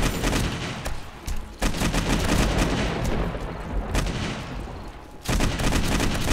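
Rapid automatic gunfire from the 7 Days to Die video game (Darkness Falls mod, Alpha 20), a dense, continuous stream of shots at a very high fire rate, loud and close, with a short lull before a renewed burst near the end.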